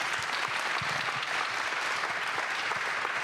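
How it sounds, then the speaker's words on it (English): Audience at an orthopedic medicine and musculoskeletal health event gives steady, even applause, a dense wash of clapping at moderate volume that holds for several seconds. "You should all clap for that."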